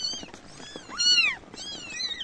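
Several kittens found without their mother meow in high, repeated cries, one louder rising call standing out near the middle, with a faint rustle beneath and no talk.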